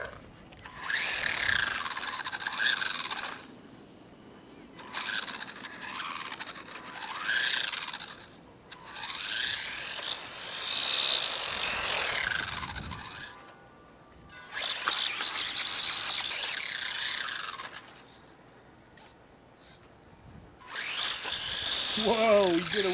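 A Losi Mini Desert Truck RC car drives with its small electric motor whining in rising and falling bursts as it speeds up and slows, heard fairly close with people talking over it throughout.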